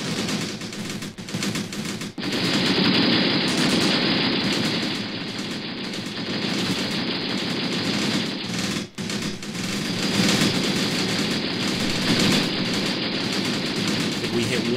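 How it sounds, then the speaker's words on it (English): Sustained rapid gunfire from the video game Graviteam Tactics: Operation Hooper rattles almost continuously, dense bursts of automatic shots blending into a loud, steady roar with brief drops. "Our gunshots are ringing out past them."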